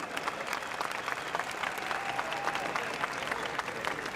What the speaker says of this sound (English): please give yourselves a round of applause for staying till now